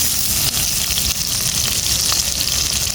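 Potatoes and pointed gourd fry in a pan on a clay stove, a loud, dense, continuous sizzle close up, with no talking.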